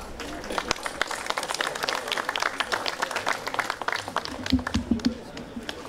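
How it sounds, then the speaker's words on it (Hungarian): Audience applause welcoming a speaker to the stage at the opening of a wine and gastronomy festival, a lively burst of many hands clapping with some voices mixed in, steady for several seconds. "Kérem, fogadjuk őt nagy tapssal."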